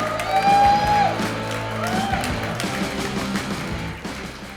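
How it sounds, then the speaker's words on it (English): A comedy club audience in Sarasota cheers and whoops for a stand-up comedian, with a sharp whistle near the start and a sustained wash of crowd noise and shouts that gradually eases off. "How about a big round of applause for Casey Ruark?"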